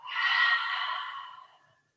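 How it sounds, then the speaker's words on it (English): A single slow, deep exhale during a vinyasa yoga session, a soft breathy rush that swells early and fades gradually to silence over about two seconds, close and alone. "Take a big deep breath in. Let it out nice and slow."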